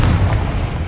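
A deep, heavy boom from a Confringo blasting spell in the video game Hogwarts Legacy, a loud low-pitched rumble that fills the whole short moment with no voices.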